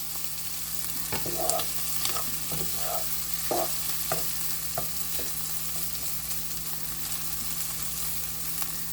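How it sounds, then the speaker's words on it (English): Ham sizzling and crackling steadily in a hot pan as it crisps, with occasional stirring scrapes and pops over a constant frying hiss, no talking. "I just want to cook this until the ham starts to get a little crispy."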